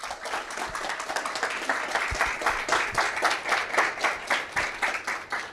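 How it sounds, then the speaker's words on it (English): Sustained audience applause at a Lambda Pi Eta induction ceremony, a dense steady wash of many hands clapping for several seconds, filling the room without any voices on top. "So please give them one round of applause."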